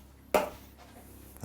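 A single crisp knife cut trims the end off a raw pastry-wrapped sausage roll on a board, a short chop followed by near silence.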